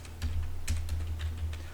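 Computer keyboard keys clatter in quick irregular bursts as CSS code is typed, close and crisp, with no voices over the keystrokes.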